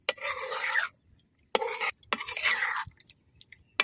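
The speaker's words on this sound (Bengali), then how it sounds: "আর এখন খুব ভালো করে এই বাগারের মাংসটার সাথে বাকি মাংসটা মিশাইম" Beef is stirred into tempered meat in a pot on a clay stove: two scraping, sizzling strokes with short clinks of a utensil against the pot between them, close and clear.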